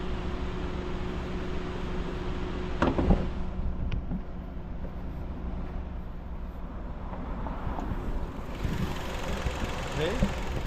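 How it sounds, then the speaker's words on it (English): A gasoline engine in a 2011 Kia K5 idles steadily with a low, smooth hum, recorded close up in the engine bay with some wind buffeting on the microphone. "Okay, now this is the engine. Beautiful engine sound. Very silent, very good."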